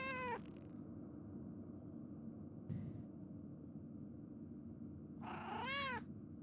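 A cat meows twice in the video game Pentiment, once at the start and again near the end, each a clear rising-falling call over a steady ambient background hum.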